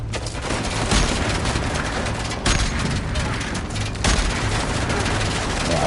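Sustained gunfire in the video game Uncharted: The Lost Legacy, a dense continuous barrage of shots with a few heavier booming hits standing out, loud and close throughout.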